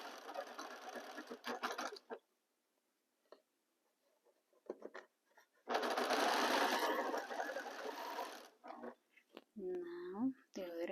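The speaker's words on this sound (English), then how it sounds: "start sewing a 1/4 inch seam allowance" Sewing machine stitching a quarter-inch seam in quilt fabric, heard as two steady whirring runs, a short one then a longer one, separated by quiet pauses and small handling noises, with a brief voice near the end.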